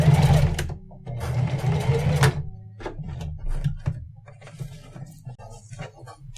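A sewing machine stitches a LilyPad LED bracelet in short, rapid bursts with pauses between them, close and fairly loud, with small clicks and handling knocks in the gaps and no one talking.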